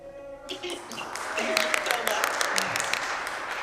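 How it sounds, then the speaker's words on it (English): Attendees at an annual meeting clap together for a colleague, a steady patter of many hands starting suddenly and continuing under murmured voices. "Everyone clap for you."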